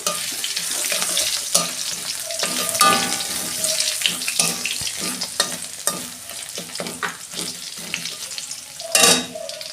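Crushed garlic hits a hot pan and fries with a steady sizzle, broken up by repeated scraping and stirring clinks of a utensil, close up and fairly loud, with a louder burst near the end.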